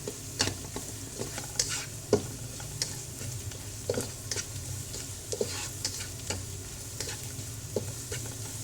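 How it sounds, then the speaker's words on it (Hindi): Garlic and white cumin seeds fry in oil with a steady, close sizzle, broken by sharp clicks and scrapes from a spoon stirring the pan, and no voices. "बस इसे मैं 1 मिनट फ्राई करूँगी, ज़्यादा नहीं करूँगी, थोड़ा अब ये ज़ीरा भी इसके साथ फ्राई हो जाएगा"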